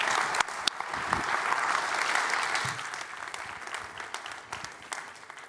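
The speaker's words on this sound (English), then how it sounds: "So please give them a big thank you, a round of applause" An audience applauds panelists at a panel event on designing, building and financing resilience. The clapping is dense and steady throughout, with a few sharper claps standing out near the start.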